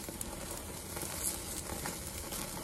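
Cowboy steak searing on a PK Grill, a steady crackling sizzle running throughout with small pops, close and moderately loud, no voices.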